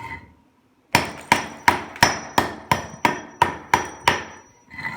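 A hammer strikes a block to thin its walls, ten sharp, ringing blows at an even, quick rhythm, close and loud, with no talking.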